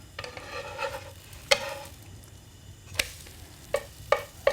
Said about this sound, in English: we'll flip over a wee pancake there